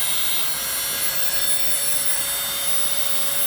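Dremel rotary tool grinding and shaping a stone, used with a little water nearby and light pressure: a steady, loud high-pitched whine with a constant drone throughout, no talk.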